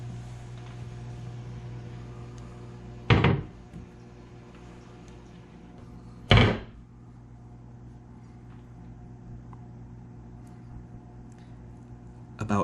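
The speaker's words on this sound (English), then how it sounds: "let's close the doors and see what we get" Two cabinet doors of a reef aquarium close at about three and six seconds, each a short, fairly loud thud. A steady low equipment hum carries on underneath, with a faint third knock right at the end.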